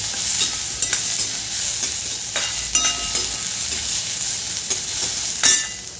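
Onion fries in a pan for an egg curry, giving a steady close sizzle broken by clinks and scrapes of stirring, with no one speaking.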